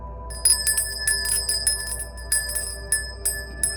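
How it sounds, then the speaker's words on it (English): A small handheld bell rings repeatedly in an indoor room, giving bright sustained metallic tones with irregular strikes, close and clear over a faint low hum. "I'm going to go ahead and ring this bell"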